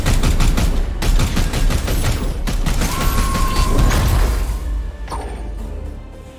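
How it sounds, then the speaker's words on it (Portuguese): Sustained gunfire in Warhammer 40,000: Chaos Gate - Daemonhunters, a loud, dense burst of rapid mechanical shots and clatter that rattles on for several seconds before easing off. "O tanto de tiro que o maldito deu."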